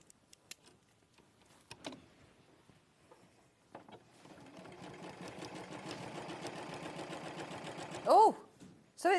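A domestic sewing machine stitching a row, its steady, low mechanical hum and rapid needle ticking running for several seconds after a few handling clicks, fairly quiet, with a brief sharp squeal near the end.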